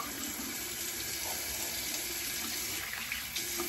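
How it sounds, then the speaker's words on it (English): Warm water gushes steadily from a tap into a sink during a wet shave with a safety razor, a close, even rushing stream throughout. "I'm going to add a little bit more warm water, a little bit more soap"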